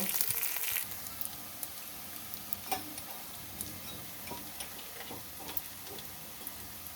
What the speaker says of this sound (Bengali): এবার এটা আমি ভালো করে একটু ভাজা ভাজা করে নেব